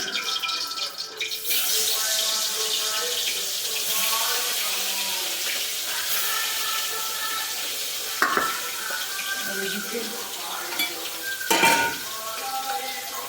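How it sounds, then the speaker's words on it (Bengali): A piece of fish fries on one side in a pan with a steady, close sizzle. Occasional clinks and scrapes of utensils against the pan cut through the hiss. "মাছটা আমি একদিকে ভাজতে বসিয়ে দিলাম"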